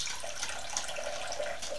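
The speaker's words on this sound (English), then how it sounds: "And I'm going to pour out all of that dirty water." Dirty water pours from a corner of a bag used to wash hickory and butternut seeds. The splashing stream runs continuously and fairly softly with no talk.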